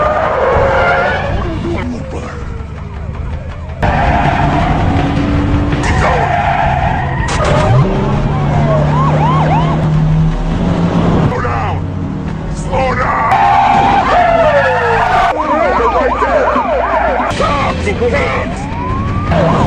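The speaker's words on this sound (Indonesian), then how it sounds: "sempat terjadi aksi kejar-kejaran antara driver dan polisi" Cars in a police chase from an action film: repeated tire squeals and skids, roaring engines and sliding siren wails, loud and busy, with voices over part of it.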